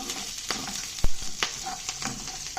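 Chillies and garlic frying in a pan for a green peas curry, with a steady close sizzle broken by a few sharp stirring scrapes, including one louder knock.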